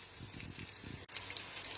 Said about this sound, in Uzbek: Qovoqlarimiz qovurilgunga qadar biz guruchimizni yuvib olamiz.